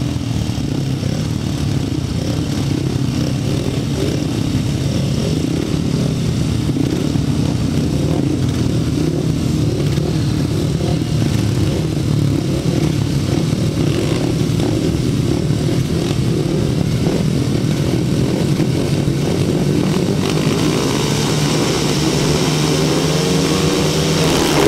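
Grasstrack motorcycles race at a 2007 memorial meeting, a continuous loud drone of several engines blending and shifting in pitch as the bikes circle. The roar holds steady throughout, with no commentary.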